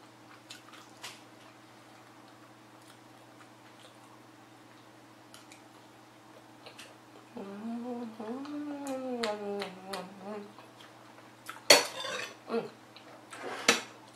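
Utensil scraping and clinking against a pan while black bean sauce rice is stirred and mixed, soft wet squishing through the middle and a few sharper knocks near the end, with a voice talking briefly over it.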